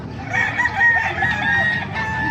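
A one-year-old hatch gray gamefowl rooster crows once, loud and close, in a single drawn-out call lasting about two seconds amid the background bustle of a gamefowl market in Bocaue, Bulacan.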